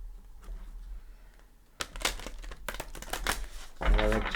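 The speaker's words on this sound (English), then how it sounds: "And I like to shuffle also with you here." Cards of a Mother Mary oracle deck are shuffled close by for a tarot/oracle reading, giving soft crinkling riffles that pick up after a quiet start and grow louder near the end, with no talk over them.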